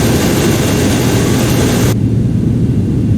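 Airliner jet engines in the airport simulation game AirportSim blast in a loud, dense roar that cuts abruptly to a muffled low rumble about two seconds in.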